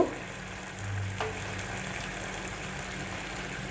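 Spices with tomato, turmeric, chili and salt frying in a pan for paneer masala, giving a soft, continuous close sizzle with a faint brief scrape, no talking.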